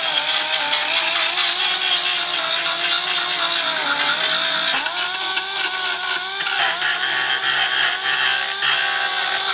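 A tool gouges out a crack in a plastic car or bike part, a loud, steady grinding whine that runs without pause, close up, with no talking.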